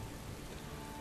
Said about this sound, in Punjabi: ਇਸ ਵਾਰ ਮੀਂਹ ਪਹਿਲਾਂ ਨਾਲੋਂ ਵੀ ਵੱਧ ਪੈ ਗਿਆ ਹੈ